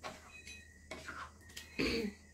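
Bihon rice noodles with native chicken being stirred in a pan, a few short scraping and clinking strokes of a utensil against the metal, close and fairly quiet.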